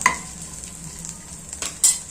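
Red chillies fry in a pan for a ground masala, giving a quiet, steady sizzle with occasional stirring scrapes and light utensil clinks.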